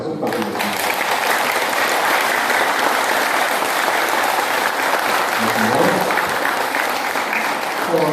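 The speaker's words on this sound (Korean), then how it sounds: "다시 한번 우리 형제 여러분 서로를 위해 다시 한번 찬탄의 박수 부탁드리겠습니다." Sustained applause from a large congregation at a Buddhist temple Dharma service held in a lobby, dense and steady for the full stretch, even and continuous with a faint murmur of voices beneath.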